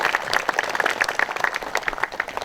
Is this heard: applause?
yes